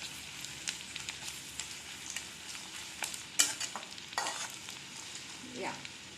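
Onions sizzling and frying in a pan while being stirred, a soft steady crackle with occasional scraping strokes and spoon knocks, fairly quiet and close.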